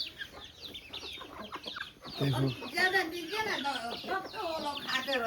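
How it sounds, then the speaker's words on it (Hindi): Chickens cluck and chatter busily close by while eating grain, a flock of overlapping calls, with a voice speaking briefly among them. "ये सारे मुर्गे मेरे पास इकट्ठा हो गए हैं ये दाना खाने के लिए"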